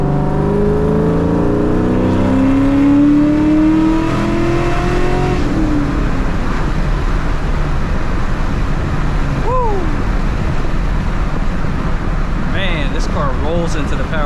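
A Terminator Cobra with a new exhaust pulling hard through the gears, engine note climbing steadily and then dropping at a shift, loud and close from inside the car, with a voice talking briefly near the end.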